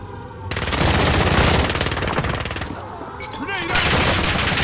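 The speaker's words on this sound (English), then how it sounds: "I'm getting shot in the back." Rapid automatic gunfire in a shooter video game, a loud, dense burst lasting a few seconds, then a brief lull with whizzing sounds before another burst of shots.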